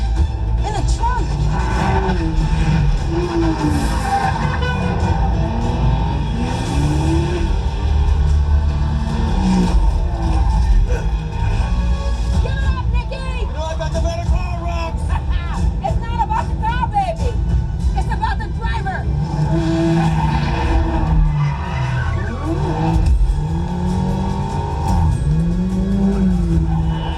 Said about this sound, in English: They had the same exact shifting sounds and engine sounds as the first Fast and Furious.